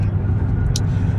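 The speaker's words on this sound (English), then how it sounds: "My car is a little loud because I'm getting on the highway" A loud car merging onto a highway, a heavy low rumble of engine and road noise filling the short stretch, steady and close, with a brief hiss near the end.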